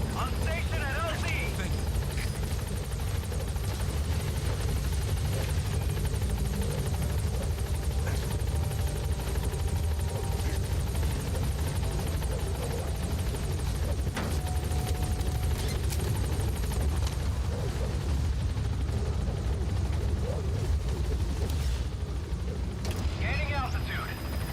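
The Pequod helicopter from the video game Metal Gear Solid V arrives at the landing zone: a loud, steady rotor-and-engine drone fills the whole stretch, with a voice speaking over it.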